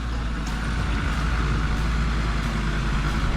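A 4x4 drives off-road on a Peak District green lane, and its engine gives a steady, loud low rumble from inside the cabin. Faint knocks sit under the drone.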